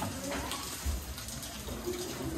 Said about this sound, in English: Look at all the water running through here, Clara.